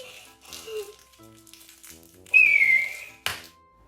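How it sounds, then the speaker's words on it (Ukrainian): A short high whistle rises and slides down, mixed with clicks and rattling noises and a sharp clack at the end, fairly close. "Чого ти свистиш? Я чую, що ти свистиш."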